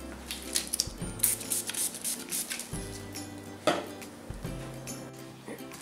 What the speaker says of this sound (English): so now give this a spray with the isopropyl alcohol.